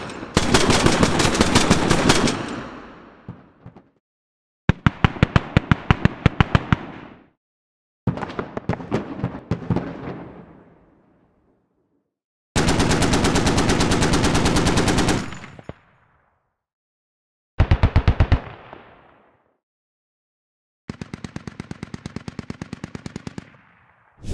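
AAVP vehicle weapon systems firing in the Squad video game: six separate bursts of loud rapid automatic fire, each a few seconds long and cut off by short silences, with no talk.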